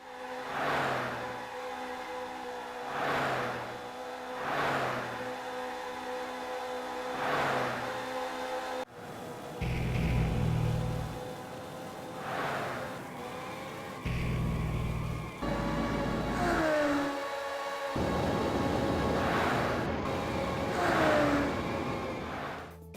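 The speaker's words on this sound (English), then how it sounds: "when you pass a rival, well, it sounds like a proper fast car doing an overtake" Engine notes from cars in a racing video game rise and fall repeatedly as rivals are passed and overtaken, with revving sweeps, a sudden shift to heavier roaring passes midway, and loud continuous motor sound throughout.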